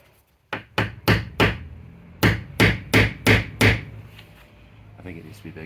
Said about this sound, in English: Maybe I should make a punch mark first so that the drill doesn't move around.